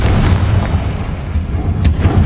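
The Confringo fire spell from the video game Hogwarts Legacy detonates in a series of heavy, rumbling booms. A sharp crack cuts through near the end, and the blasts are loud and close with no talking.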